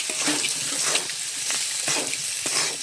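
Fried potatoes and pointed gourd stirred with turmeric and spices in a pan, giving a steady close sizzle broken by repeated scraping stir strokes, with no talking.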